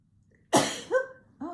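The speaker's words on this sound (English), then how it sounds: "I'm going to sneeze again." A single loud, close sneeze bursts out, followed by two short voiced gasps or sounds right after.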